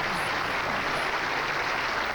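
Steady, dense applause from a bowling tournament crowd at a 1987 title match fills the whole stretch, a continuous wash of clapping without pause.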